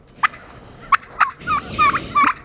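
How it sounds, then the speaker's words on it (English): Wild turkeys gobble on a front porch on a frosty farm morning, several sharp bursts and rippling calls close by, with no one talking. "these turkeys have been coming up and roosting on my front porch"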